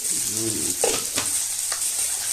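Onions frying and being stirred in a pan while cooking muri ghonto, with a steady sizzle broken by a few scraping stirs and short clatters, close and with no voices.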